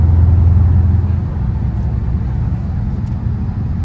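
A Dodge Hellcat driven fast on a road gives a deep, loud engine rumble and roar, strongest at the start and then settling into a steady low drone.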